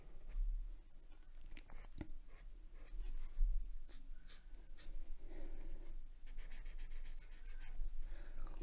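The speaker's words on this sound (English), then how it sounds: "it's a marker with a chisel tip" A chisel-tip marker scrawls across paper in close, scratchy strokes, short rubbing squeaks and swipes repeating at an uneven pace, with no one speaking.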